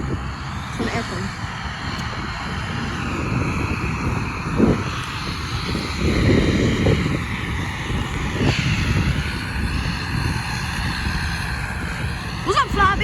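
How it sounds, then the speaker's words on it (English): A British Airways airliner taking off at Edinburgh airport, a broad steady jet roar swelling and holding nearby across the whole stretch, with talk and wind noise in the foreground. "Oh, one taking off. It's taking off."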